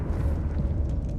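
A Confringo explosion spell cast in Hogwarts Legacy produces a brief, fairly quiet low-pitched blast with a rumbling tail, heard alone without any voices.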